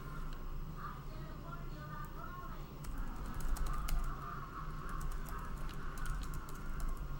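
Quick, irregular clicks of typing on a computer keyboard patter steadily over a low background hum, growing denser in the second half, close and moderately loud with no voices.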